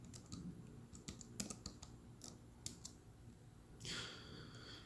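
Keys clacking on a computer keyboard as a command is entered into an interpreter, a quick burst of crisp taps with brief pauses, close and fairly quiet, ending in a slightly longer rustling stroke.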